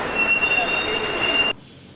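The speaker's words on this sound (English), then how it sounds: "The trams of Lisbon are one of the really quaint phenomena of this city." An old tram in Lisbon's Alfama district rolls along street rails with steady rumbling and high, sustained metallic wheel squeal. It stays loud and close, then cuts off abruptly near the end.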